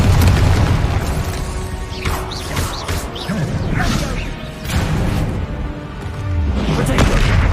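Confringo fire spells blasting in Hogwarts Legacy, a string of booming explosive bursts and crashes layered over busy game combat noise, loud and dense throughout, with faint talk in places.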